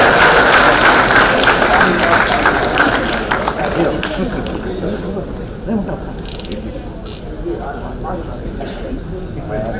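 A school reunion audience claps and cheers loudly, the applause strongest at first and then thinning and fading, with voices and an announcer speaking over it.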